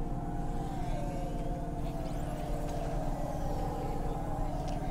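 Flying car engine in the video game Cloudpunk: a steady, droning mechanical hum with a whirring tone holds evenly throughout at moderate-low level.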